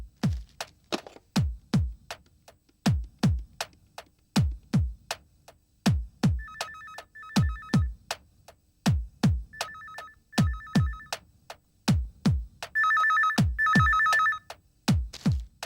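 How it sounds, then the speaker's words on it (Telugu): A telephone rings indoors in a steady repeating pattern of paired electronic bursts, loud and close with no talk over it, in a household scene from a Telugu TV serial episode. "ఫోన్ నీకే అనుకుంటా"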